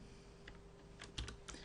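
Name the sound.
typing on a computer keyboard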